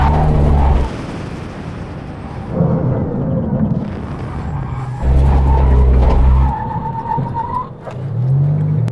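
Cars brake hard in a stopping-distance test during a drag race between a Mini, a Bugatti and a Lamborghini, with loud engine roar and tires skidding in several bursts, close and forceful.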